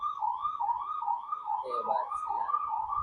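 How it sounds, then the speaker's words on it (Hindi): An ambulance siren wails with a steady, wavering electronic tone that holds loud and continuous throughout, with faint background murmur beneath it. "एम्बुलेंस का आवाज सुन के बहुत डर लगता है मेरे को यार।"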